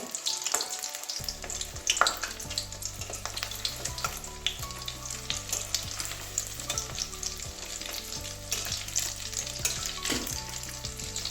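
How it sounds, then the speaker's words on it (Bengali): Battered egg fritters for a Bengali cauliflower-fritter egg curry, just turned over in hot oil on medium heat, fry with a steady close sizzle, punctuated by a few scraping stirs and clinks, with no talking. "এবারে একদিকে ভাজা হয়ে গেছে আর একদিকটা উল্টে দেবো"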